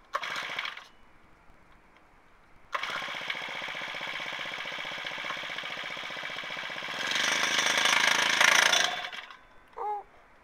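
A small mini generator engine runs right after a cold start, a steady loud mechanical drone that begins after a brief burst and gap, rises in pitch and intensity as it revs too fast, then cuts off abruptly near the end.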